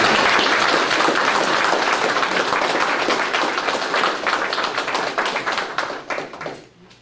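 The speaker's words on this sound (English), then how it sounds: "I need to applaud." Sustained applause from a crowd at a town meeting in Elkton, Maryland, dense and steady for most of the stretch, then thinning into scattered claps before stopping abruptly.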